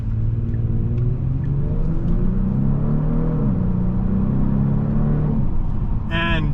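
A 2026 Genesis G70 Sport Prestige with twin-turbo V6 and all-wheel drive accelerating hard, a loud rising engine drone heard from inside the cabin, sustained throughout with a brief sharp noise at the end.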